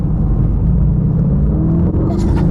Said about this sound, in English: I'll drop a gear, and give it just a little squeeze.